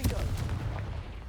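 Confringo spell blasting in the video game Hogwarts Legacy, a short booming explosion with a heavy low rumble right at the start that tails off over about a second, with no talk over it.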